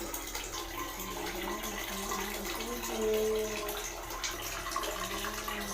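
Steady broadband rush of running water, like a tap filling a container, continuous and fairly loud throughout with a low hum beneath.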